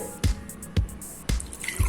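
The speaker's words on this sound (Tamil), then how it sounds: "இதில் தண்ணி எல்லாம் போடணும்" Water goes into a pot of rasam in a home kitchen, landing as a few separate splashy drops and pours about half a second apart, close and clear.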